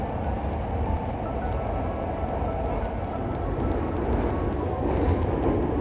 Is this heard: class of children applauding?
no